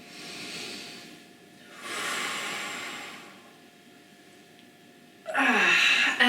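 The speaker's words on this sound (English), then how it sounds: "Deep breathing at the same time." Deep breathing during shoulder roll stretches: slow, airy inhales and exhales swell and fade close to the mic, ending in a louder, sharper breath.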